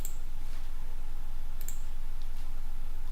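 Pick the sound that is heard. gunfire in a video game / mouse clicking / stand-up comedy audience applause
mouse clicking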